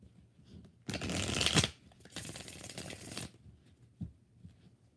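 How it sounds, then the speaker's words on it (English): Tarot cards are riffled and shuffled by hand in two close, crisp bursts of rapid flicking, followed by a few soft taps in an otherwise quiet room. "One more shuffle."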